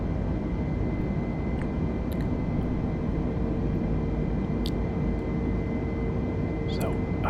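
A constant broadband jet engine roar from a flight simulator game, like airliner turbines heard from the cabin at 12,000 feet, steady whooshing noise with a few faint clicks, no clear talking.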